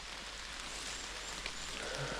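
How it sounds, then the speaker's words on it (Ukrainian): Steady rain falling on the forest during mushroom picking, a dense, even hiss of drops pattering on leaves and ground, close and continuous throughout with no speech. "Дощ іде"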